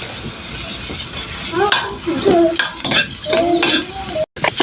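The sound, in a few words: onions frying in a pan for pancit bihon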